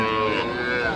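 A dairy cow or calf lows at a busy cattle market in Ambari, Dinajpur, one drawn-out, loud moo standing out against the crowd's chatter and bustle nearby.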